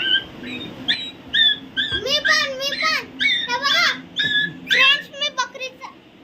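A child outdoors in a street imitates a dog crying, producing a series of high, wavering whimpering wails in short bursts over about six seconds, with other children's voices and background chatter around.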